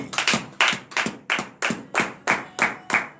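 A church congregation at a morning prayer service in Benin clapping in unison, about ten evenly spaced, sharp claps landing in a steady rhythm, close and clear.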